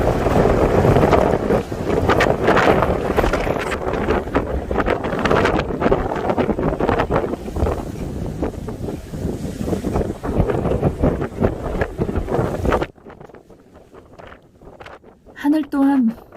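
Strong wind roars across a snowy ridge on Dobongsan's Podae ridge in winter, a loud continuous buffeting rush that stops abruptly near the end, leaving quiet with a brief faint tonal sound.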